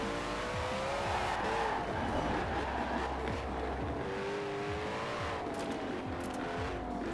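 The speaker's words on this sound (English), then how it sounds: "Even in sixth gear, if I tried to floor it, it just immediately starts to spin those wheels." A Koenigsegg in the video game Forza Horizon 4 spins its wheels in sixth gear, the engine droning steadily with tire squeal and skidding running continuously throughout at close range.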